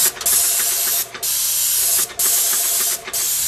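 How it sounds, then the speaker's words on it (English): A paint sprayer spraying paint onto the stucco siding of a house, loud close hissing in three long bursts with brief pauses between trigger pulls, no talk. "So you always make sure you get in there and spray the back side"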